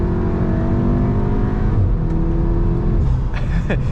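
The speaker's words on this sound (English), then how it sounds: "it has these little burps on upshift, so you still get the DSG burps" A Volkswagen Golf R with a DSG gearbox and stock downpipe revs hard as it accelerates, with a few short crackling pops near the end as it shifts up. Loud and steady throughout.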